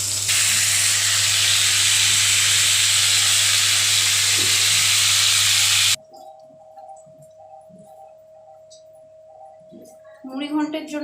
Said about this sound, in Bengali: একটা বড় মাছের মাথা নিয়েছি, যেটা ফ্রাই হচ্ছে